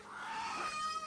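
A desi hen or rooster gives one short clucking call, faint and close, lasting about a second.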